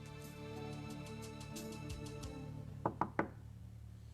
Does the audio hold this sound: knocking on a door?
yes